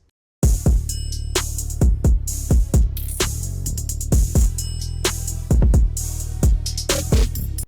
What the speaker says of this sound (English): Now your drum break should sound like this.